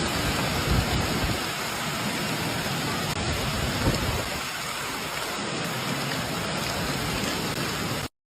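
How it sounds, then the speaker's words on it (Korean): Heavy hail pours down like a downpour in Fuzhou, Fujian, giving a loud, dense, continuous roar of pelting ice that fills the whole scene, with no voices heard, then cuts off abruptly at the end. "우박이 내려요"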